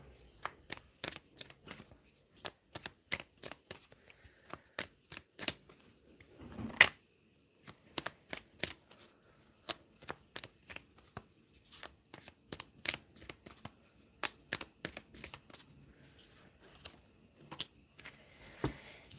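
Tarot cards being shuffled in a long run of crisp, rapid riffling flicks, close and fairly quiet, with a short pause near the middle and no talking.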